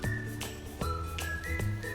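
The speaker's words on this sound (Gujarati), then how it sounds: "મારી 2 સીટી વાગી ગઈ છે" A pressure cooker with mung beans inside whistles in a steady high tone. Repeated soft pulses and faint tinkling sit under the whistle, with no voices.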